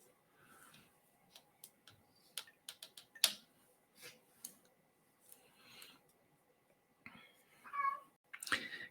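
A pet cat meows several times in short, scattered calls, some close and fairly loud, mixed with small ticking and clicking noises in a quiet room.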